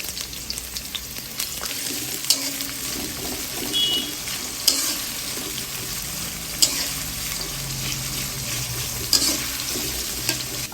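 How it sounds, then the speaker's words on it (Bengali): Sliced onions frying in hot oil for biryani beresta, a steady loud sizzle with occasional stirring clinks and scrapes of a spoon against the pan throughout. "প্রথমে পেঁয়াজটা দিয়ে দিলাম বেরেস্তা করার জন্য।"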